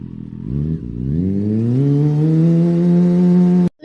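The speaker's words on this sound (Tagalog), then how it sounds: "Sarap talaga i-drive ang bagong motor na ito." A new motorcycle engine revs up from idle, its tone climbing steadily and holding loud and close before it cuts off abruptly.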